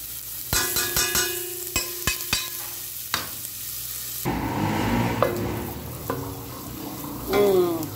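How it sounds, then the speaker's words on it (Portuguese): Oil sizzles and spits in a pan as garlic browns, with metallic clinks of a utensil stirring early on, then a steady frying hiss. "Dourar o alho."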